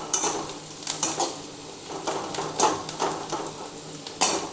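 Onions frying in a pan until lightly browned, a steady close sizzle with repeated clinks and scrapes of a spatula stirring against the metal.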